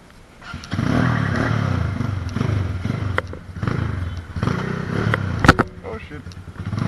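A 250cc motorcycle idles and blips its muffler exhaust nearby, with a throaty engine note that rises and falls under casual conversation on a town street in Jamaica.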